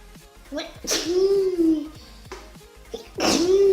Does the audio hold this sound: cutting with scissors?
no